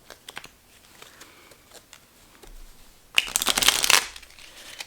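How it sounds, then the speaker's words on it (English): Soft handling and taps of playing cards lead into a brief, loud riffle of a deck being shuffled, then quiet again. "all I'm going to do is shuffle this deck and pull 2 cards"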